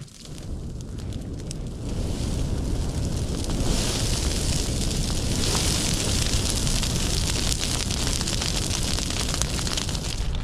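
A bonfire of stacked barberry and gum tree branches burns outdoors with a steady, dense roar and crackle, growing louder after the first couple of seconds and holding a continuous rushing intensity.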